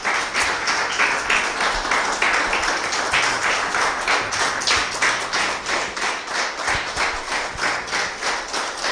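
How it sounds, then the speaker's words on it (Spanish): Church congregation clapping in a strong, rhythmic unison beat, loud and close, pulsing steadily for about nine seconds. "denle un fuerte aplauso al Señor."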